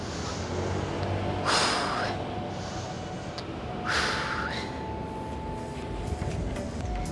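Two forceful breaths exhaled through the nose and mouth during hip thrust exercise reps, close and loud, each a short rushing burst a couple of seconds apart over steady background noise.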